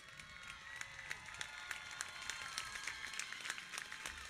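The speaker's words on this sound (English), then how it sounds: "Let's give them a big round of applause, please." Applause from the audience at a high school graduation ceremony, a steady wash of many hands clapping at moderate distance, with a few sharper claps standing out over a hall's background hum.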